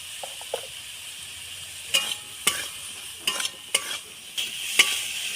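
Chopped vegetables spiced with turmeric, salt and chili powder fry in a pan, with a steady sizzle broken by several scraping stirs of a spatula, close and fairly loud with no talking.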